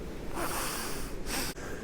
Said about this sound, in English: You just keep going and keep breathing deeply with a loud sound.